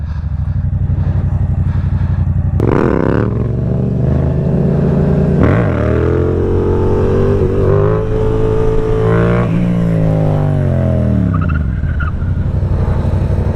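A Yamaha MT-07 motorcycle revs hard through its exhaust during wheelies, loud and close, the engine climbing and falling in several sweeping pitch bends over constant roar, with no talk.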